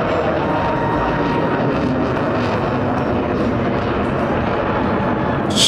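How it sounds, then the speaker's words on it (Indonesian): A toy fighter jet gives off a steady, loud, broadband roaring whoosh that holds unbroken for several seconds close by, much like a recorded jet engine. "lihat di sini ada pesawat jet tempur"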